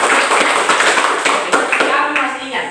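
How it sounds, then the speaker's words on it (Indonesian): Students clap together in a classroom, a lively patter of close hand claps with distinct slaps that gradually thins out, with voices faintly underneath. "Tepuk tangan dulu ya."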